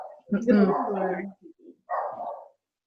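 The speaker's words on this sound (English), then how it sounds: "He's probably barking at the neighbors." A dog barks and yips close by in a few short bursts, overlapping a person's voice nearby.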